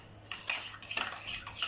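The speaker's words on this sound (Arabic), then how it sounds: "وكنخلطو مزيان حتى يولي عندنا داك الكريم كريمي مزيان" A spoon stirs homemade skin cream mask made with Nido milk powder and frankincense in a bowl, giving a few close, light scraping and clinking strokes in quick succession with no talk.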